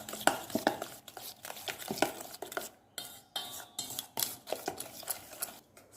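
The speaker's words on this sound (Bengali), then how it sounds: "চিনিটা দিয়ে দিয়েছি, আর ভালো করে চিনিটাকে এটা দিয়ে ভালো করে মিক্সড করে নেবো আমি।" Eggs and sugar being beaten together in a cup with a utensil, giving quick, irregular clinking and scraping strokes, close and fairly clear, with brief pauses between bursts.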